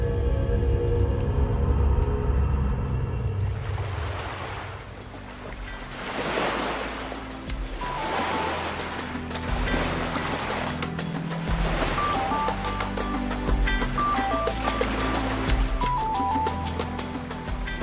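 Sea waves break where a river meets the sea on St. Kitts, with repeated rolling surges of surf, steady wind noise, and a music bed running underneath.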